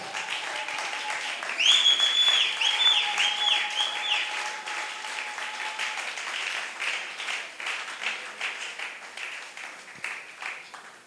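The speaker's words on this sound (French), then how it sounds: "Acclame très fort le Seigneur." A church congregation applauds loudly during a sermon. Dense, sustained clapping swells early and then slowly fades, with faint voices and a tonal sound mixed in.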